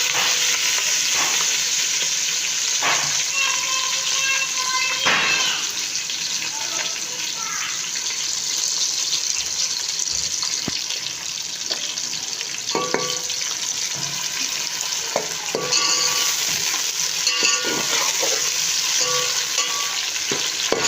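Onions fry in hot oil for chicken pulao, a loud, steady sizzling hiss throughout, with intermittent scraping and clinks of a spatula stirring the pan close by.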